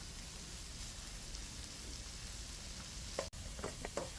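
Sliced ginger sautéing in a pan, giving a faint, steady sizzle throughout; near the end a short clatter and fresh crackle mark garlic being added.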